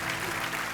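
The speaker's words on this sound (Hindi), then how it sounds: "यहाँ पे तो यूलिया के लिए तालियां बजाई जाए" A brief steady burst of studio audience applause for Yulia on The Kapil Sharma Show, a smooth crowd clapping texture with faint background tones beneath it.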